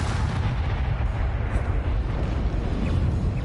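Confringo blasting spells go off in a Hogwarts Legacy fight against inferi, giving a dense, continuous rumble of booming explosions. The sound is loud and close and runs for the whole stretch with no break or talking.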